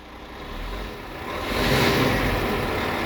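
A Scania truck engine runs with a steady low rumble that swells louder halfway through, a broad roaring hum close by.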